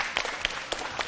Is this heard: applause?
yes